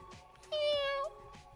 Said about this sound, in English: What's your problem, kitty cat?